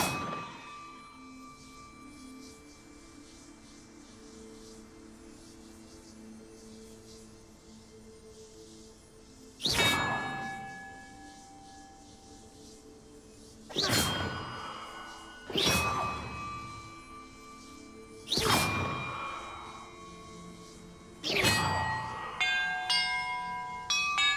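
Bells ringing in a Hogwarts Legacy puzzle: after a quiet stretch, five loud metallic strikes ring out at uneven intervals, each decaying into a long shimmer, ending in a quick flurry of smaller chimes.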